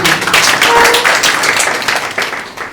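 An audience bursts into applause at a speaking club session in Bamako, a dense, close burst of many hands clapping that fades slightly toward the end.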